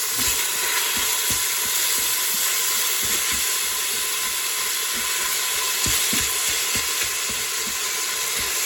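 Meat browns in a hot frying pan on a cooking machine, a steady loud sizzle and hiss with small crackles popping throughout, no voices.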